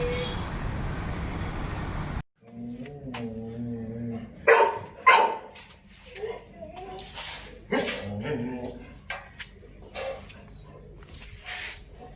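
Chow Chow puppies, both male and female, bark, yip and whimper in short high bursts close by, an irregular cluster of small yelps after a sudden cut from background hiss, with someone talking over them.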